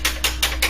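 A wire-and-ball head massager is struck against a desk four times in an even rhythm, each hit giving a bright, close metallic rattle and jingle over a low hum.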